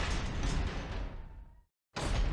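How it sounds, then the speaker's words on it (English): A heavy door in Resident Evil HD Remaster swings open with a loud, dense rumbling sweep that fades away, drops into a brief silence, then returns abruptly at full loudness. "Those doors are loud."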